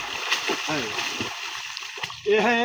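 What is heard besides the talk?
feet kicking and splashing in river water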